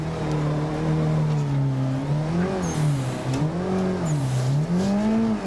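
A video game car drifts with a droning engine whose pitch rises and dips as the revs swing, plus faint tyre squeal, steady and close with no talking.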